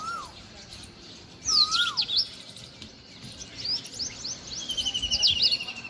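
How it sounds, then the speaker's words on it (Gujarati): Sparrows chirp outdoors in the early morning, giving bright, quick bursts of tweets that come and go over a faint background. "જો મસ્તીની ચકલી બોલે છે"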